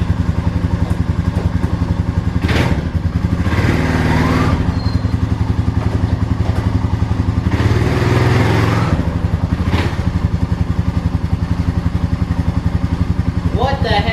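A 2004 Honda Rancher 400 ATV engine runs steadily close by, with a fast, even idle throb broken by bursts of higher revs and clunks as it shifts gears; a voice speaks briefly.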